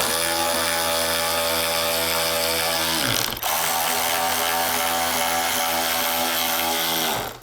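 Power tool driving screws into a hinge assembly on a 2014-or-later Harley Touring motorcycle, a loud close motor whine that drops briefly as one screw seats, then spins up again steadily before stopping.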